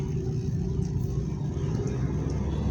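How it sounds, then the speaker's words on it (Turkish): A Mazda 626 engine idles steadily after a valve cover gasket change, with a low, even, continuous rumble heard close up and no talk over it. "araba gayet güzel bir şekilde çalışıyor."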